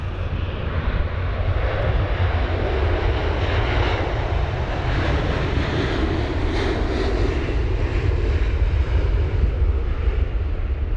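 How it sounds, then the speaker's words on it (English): A Virgin Atlantic Airbus A350-1000 airliner bound for Orlando passes at Heathrow during a storm, giving a loud, steady broadband engine roar that stays strong throughout with no voices. "this Virgin Atlantic Airways A350 1000, registered as Golf Victor Bravo Oscar Bravo, or GVBOB, off to Orlando"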